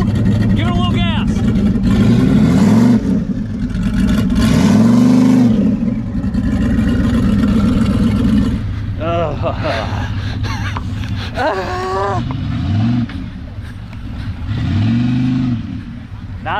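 A turbo LS mega truck engine revs in loud, repeated bursts, rising and falling in pitch, with people talking over it.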